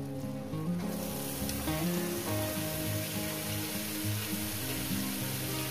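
Spinach goes into a hot pan with a fried catla fish head, sizzling and crackling steadily up close with a broad hiss and no talking.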